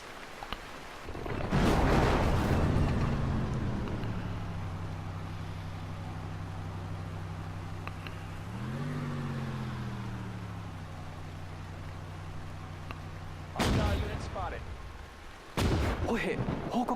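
Gunfire and artillery rumble in the Battle of Bataan campaign of the PlayStation 4 strategy game Sudden Strike 4, with booming blasts at the start and end over a droning vehicle engine.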